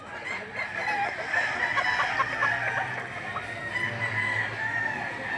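Rooster crowing among crowded fowl at the Lipa livestock auction market, a drawn-out crow over continuous clucking and murmuring crowd noise.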